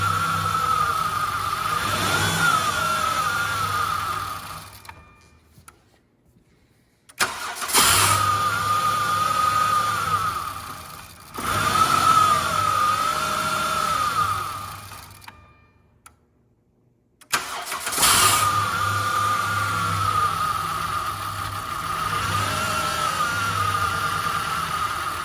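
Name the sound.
van engine running after diesel misfuel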